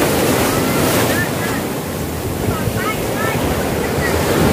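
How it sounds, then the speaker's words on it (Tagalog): Strong ocean waves crash and roar continuously against an island shore at Glan, Sarangani, loud and close, with steady wind buffeting the microphone throughout. "Grabe yung lakas ng alon dito, guys."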